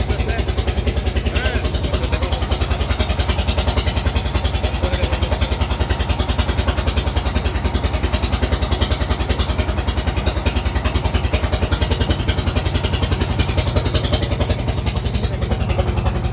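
Engine of a large launch boat on a Kishoreganj haor, a loud continuous throbbing drone that holds steady throughout, heard close, with voices talking over it.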